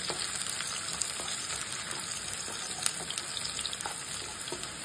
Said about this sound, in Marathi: तेल गरम करत ठेवले, त्याच्यात आपण हा उभा केलेला कांदा टाकूया। टाकून त्याला चांगलं परतून 2 मिनिटं परतून